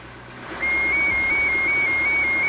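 A Vermeer horizontal directional drill's strike alert alarm sounds as a steady, loud pulsing electronic tone of repeated beeps, starting abruptly and continuing over a low machine hum.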